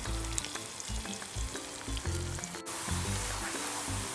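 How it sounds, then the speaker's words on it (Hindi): Onion frying in half a cup of oil until brown, for mutton nihari, a constant bright crackling sizzle close by, with a low rhythmic bubbling pulse beneath it and no talking. "प्याज को ब्राउन करना है।"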